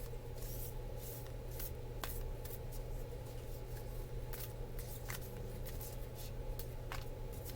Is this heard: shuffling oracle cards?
yes